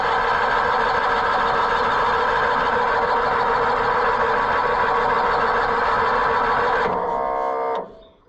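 An old Cushman Truckster utility vehicle's engine runs loud and close with a steady, rough mechanical drone for about seven seconds, then falters, sputters and dies away.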